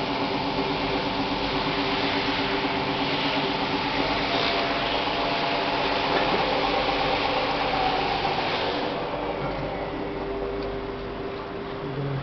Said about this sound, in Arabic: بدأ مروحة المجفف تشتغل زي ما احنا شايفين، وفي نفس الوقت الهيتر بتاع المجفف يشتغل.